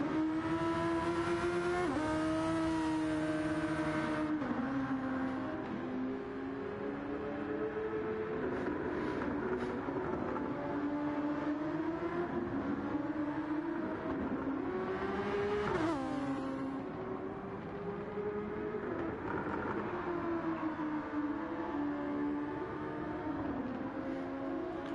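Race car engines howl around the track in Gran Turismo 7 during a Super Championship free practice session, a sustained high-revving whine rising and falling with gear shifts and passing cars, loud and continuous with no talking.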